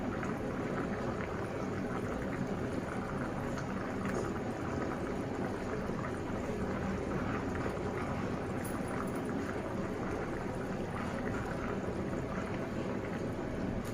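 Hilsa fish curry bubbling steadily in a covered pot as fried hilsa pieces are added, a continuous dense simmering hiss with no distinct splashes or voices.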